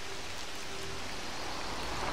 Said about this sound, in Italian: Come vedete sta iniziando a piovere